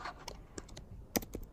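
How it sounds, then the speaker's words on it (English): Someone types on a computer keyboard, a close run of scattered, irregular key clicks with one sharper tap partway through, and no talking. "I'll click on T on my keyboard and I'm going to type"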